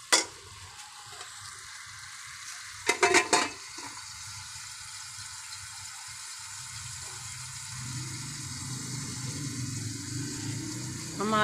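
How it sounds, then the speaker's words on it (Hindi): Onions browning in a pan for a Pakistani mixed vegetable curry with potatoes, peas, carrots and turnips, hissing in a steady sizzle with a burst of stirring clatter early on and a louder, fuller frying sound building toward the end. "प्याज़ों को हम अच्छी तरह से थोड़ा सा ब्राउन कर लेंगे"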